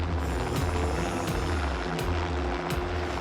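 Steady helicopter rotor thrum with low throbbing engine noise, continuous and fairly close, with a periodic sharp whoosh of blades every half second or so.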